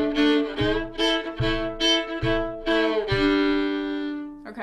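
Fiddle chords bowed on the higher two strings from the fiddle tune Red Haired Boy, heard as a clear, close run of rhythmic double-stop strokes with ringing harmonics and no talking.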